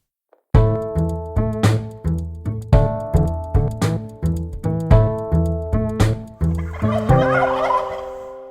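Turkeys gobble loudly and repeatedly in quick rhythmic bursts at a presidential turkey pardon, close and clear with no talk.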